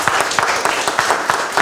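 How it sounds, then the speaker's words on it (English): An audience at a cooking masterclass breaks into a brief round of applause, dense clapping close and loud for under two seconds, with no talk over it. "Can we have a round of applause for this gentleman?"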